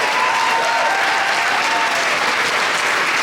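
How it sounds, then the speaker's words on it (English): Steady, dense applause from a crowd of coaster enthusiasts at a Knoebels lunch event, thanking the event staff; loud and sustained throughout with a faint whistle on top. "just a simple another round of applause for these guys"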